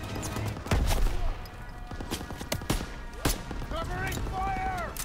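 Bursts of rifle and machine-gun fire crack through a Call of Duty: WWII infantry fight, loud and close at first, then sparser sharp shots, with soldiers shouting over the battle.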